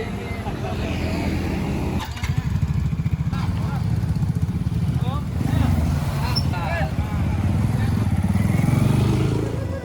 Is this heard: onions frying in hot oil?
no